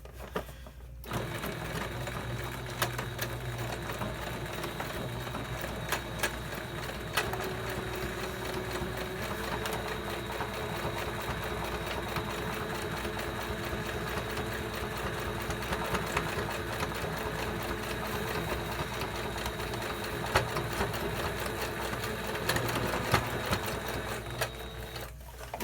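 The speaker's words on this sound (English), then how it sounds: "And we'll sew one right along the top." A sewing machine stitches a seam along the top of a homemade heat pack, running continuously with a fast, steady mechanical chatter, close and unbroken, with no talking.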